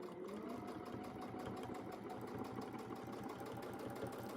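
A sewing machine does free-motion double stitching, its fast, even mechanical chatter running continuously and faintly throughout, with no voices.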